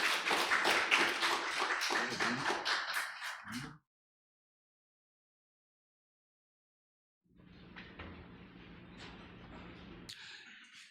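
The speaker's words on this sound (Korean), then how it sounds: "전우택 교수님을 큰 박수로 맞이해 주시기 바랍니다." An audience at a seminar applauds a professor being welcomed to the stage. A dense burst of clapping stops abruptly, then after a silent gap a softer, more distant patter of claps returns.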